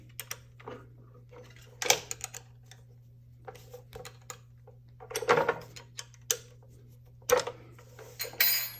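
Metal clicks and light clinks as the six housing bolts on a Vicmarc VOD 300 are tightened with an 8mm wrench, sparse ticks scattered over a steady low hum, a few louder taps standing out.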